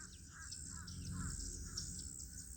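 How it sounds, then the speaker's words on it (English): Yellow-rumped warblers and northern parulas sing at Circle B Bar Reserve, with repeated thin, high chirps and trills over a constant insect-like hiss, moderately distant and steady throughout. "Those are your yellow-rumped warblers that you're hearing."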